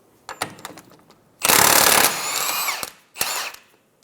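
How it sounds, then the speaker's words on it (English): A power tool with a 30mm socket whirs in short bursts removing the rear axle nut of a Toyota Highlander, then a long loud grinding run of about a second and a half, then one more burst, close by, no talking. "Using a 30mm axle nut socket, we're going to remove the rear axle nut."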